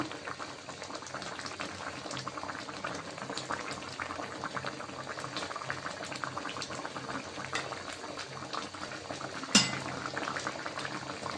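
A pot of shing fish curry seasoned with cumin bubbles steadily on the stove, a dense, continuous close-up simmer with occasional faint clinks of utensils and one sharp knock near the end.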